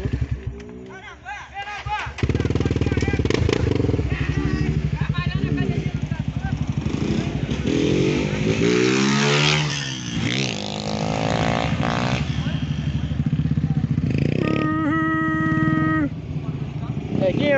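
A motorcycle engine revs high and holds at elevated revs, loud and close, with rising and falling pitch sweeps and louder throttle bursts, under outdoor voices talking.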